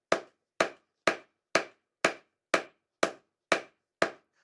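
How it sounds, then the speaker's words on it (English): Rounding hammer striking hot steel on the horn of an anvil while roughing the taper of a hot chisel, nine sharp evenly spaced blows about half a second apart, each ringing briefly, close and clear. "we're going to start at the horn of our anvil along with our rounding hammer to roughen the taper for our chisel"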